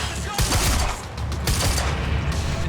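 In the Quantum Break video game, dense gunfire rattles in rapid bursts with heavy booms, loud and close, running almost nonstop for a few seconds with no voices over it.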